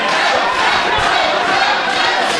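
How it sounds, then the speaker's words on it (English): A loud wrestling crowd at an FBW show chants in unison for Chris Payne to tap out during a submission hold, a dense roaring rhythmic chant filling the arena without pause. "The crowd telling Chris Payne to tap out."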